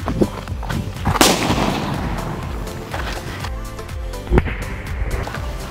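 A Sivakasi digital sound firecracker goes off in a rapid, crackling series of bursts, with sharper loud bangs standing out near the start and again later, close and loud throughout.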